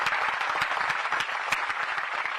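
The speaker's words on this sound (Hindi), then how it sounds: "एक बार इन सबके लिए तालियां बजा दीजिए।" Crowd applause at a hunger strike protest at Jantar Mantar, Delhi: dense, steady clapping from many hands, close and loud for the whole stretch with no talk.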